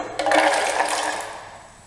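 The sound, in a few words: pouring water into almonds for almond milk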